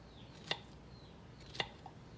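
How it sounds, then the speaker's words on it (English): A knife cuts through summer squash on a cutting board in a Southern home kitchen, giving two crisp, separate chops about a second apart in a quiet room. "So we're going to get these chopped up, and what you'll do is just cut them in quarter size."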